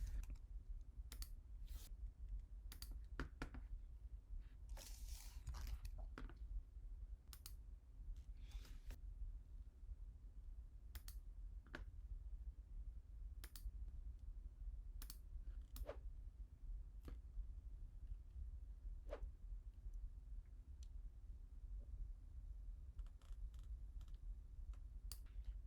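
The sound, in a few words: keyboard key presses and mouse clicks in Adobe Illustrator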